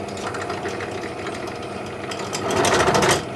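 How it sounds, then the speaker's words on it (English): A drill whirs with a rapid mechanical rattle, swelling louder near the end as the bit bites into wood, then easing off. "So just finished drilling all the holes, ready for the coins to go around."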